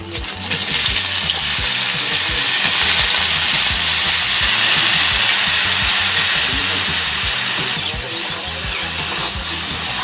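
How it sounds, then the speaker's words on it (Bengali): Boiled elephant foot yam stalks fry in hot oil in a home kitchen, giving a loud, steady sizzle that carries through the whole stretch with no one speaking. "সিদ্ধ করে রেখেছি, এবার আমি ভেজে নেব তেলে"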